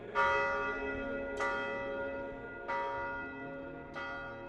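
The church bell of Vodica Monastery tolls four times at a slow, even pace, each strike ringing out and fading into a calm, quiet setting.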